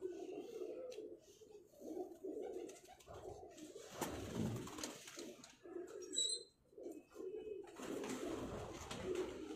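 Pigeons coo repeatedly in soft, throaty rolling calls close by, with some rustling and brief background noise between.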